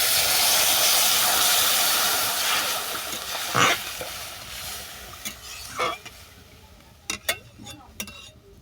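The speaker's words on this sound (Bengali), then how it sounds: "ডালটাকে কিছুক্ষণ ভেজে নেওয়ার পর তুলে দিলাম জল" Water poured onto lentils frying in a hot pan bursts into a loud steamy hiss that gradually fades, followed by a few sharp utensil knocks and clinks near the end.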